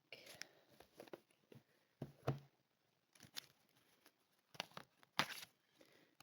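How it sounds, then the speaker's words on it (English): Large oracle cards being shuffled by hand, giving soft, close papery riffles and crinkly slaps in short irregular bursts with quiet gaps between them. "These are bigger than your average oracle cards as well, so a lot harder to shuffle."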